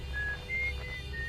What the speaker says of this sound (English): Eska just whistles.